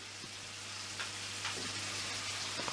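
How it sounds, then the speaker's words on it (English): Diced steak sizzles in clarified butter in a hot pan, a steady soft frying hiss with a few faint pops and crackles, fairly quiet throughout with no talking. "I got the diced steak on the go right now in the clarified butter"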